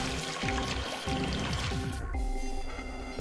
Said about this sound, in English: Fill up acidic water.